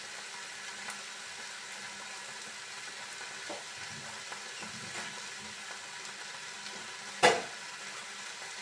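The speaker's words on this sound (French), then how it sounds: "Pour l'instant, c'est juste des légumes qui sont dans une poêle" Vegetables with added spices fry in a pan, giving a soft, steady sizzle with occasional light stirring scrapes, then one sharp clank of the pan or utensil near the end.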